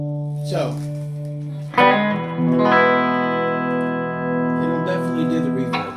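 A tone through an Ampeg Jupiter 42/B-42X amplifier rings out with its reverb effect, sustained notes swelling and trailing off in lingering echoes, struck twice in a short passage.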